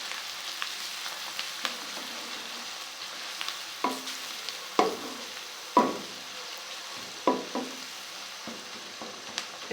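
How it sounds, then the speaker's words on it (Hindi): Garlic fries in a pan for a spiced turnip curry, with a soft steady sizzle broken by repeated scraping stirs and spoon knocks that come in uneven bursts, close and moderately loud. "अब इसमें हम लहसुन डालेंगे।"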